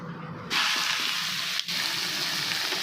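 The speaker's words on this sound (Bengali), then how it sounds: "কড়াইতে চিংড়ি মাছটা দিয়ে দিলাম চিংড়ি মাছটাকে ভেজে ভেজে নেব" Turmeric-coated shrimp tipped into hot oil in a kadai, a sharp sizzle that jumps up suddenly and then hisses steadily and loudly, with a brief dip midway.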